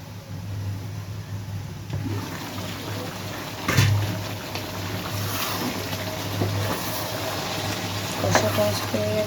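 Mutton curry sizzles steadily in a pan while it is stir-fried, with a continuous frying hiss broken by occasional louder scraping stirs, heard close up alongside a low background hum.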